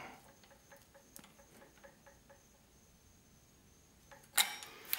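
A custom swager being threaded by hand into a Dillon XL650 reloading press, heard as a rapid run of faint, close metallic ticks and clicks, then a brief louder clack near the end.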